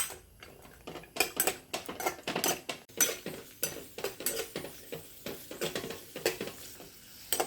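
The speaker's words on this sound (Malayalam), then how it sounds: "നെയ്യ് ചൂടായിട്ടുണ്ട്. നമുക്ക് അണ്ടിപ്പരിപ്പും മുന്തിരി ആദ്യം ഒന്ന് വറുത്തെടുക്കാം." Cashews and raisins fry in hot ghee for vermicelli payasam, a soft sizzle under frequent close clinks and scrapes of a metal spoon against the pan, in an irregular rhythm, with no talking.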